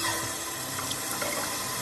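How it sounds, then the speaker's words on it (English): Cold water splashes and runs steadily like a tap filling a basin in a visual novel game scene, a continuous close wash with no voices. "As the cold water splashes my face"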